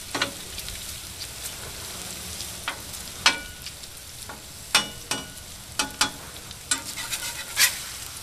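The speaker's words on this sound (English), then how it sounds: "We start spinning the bacon." Bacon and sausage sizzle on a Blackstone 22-inch griddle, a steady close frying hiss broken by sharp scraping clicks of a spatula turning the meat, coming every second or so.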